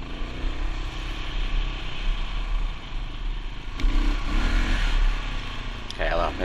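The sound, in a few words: KLR650 motorcycle engine revving during wheelie attempt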